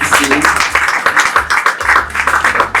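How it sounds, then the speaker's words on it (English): Audience clapping for a board chairman arriving at a corporate awards hall event, a steady dense round of applause throughout, loud and close, with voices mixed in. "Please let's give him a round of applause as he comes in."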